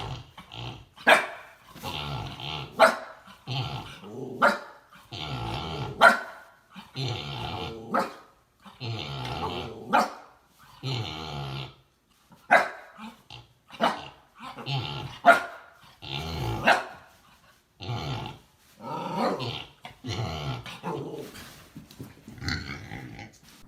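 A dog barks and growls repeatedly at close range while trying to rouse a sleeping pig, short sharp barks and rumbling growls coming in irregular bursts throughout.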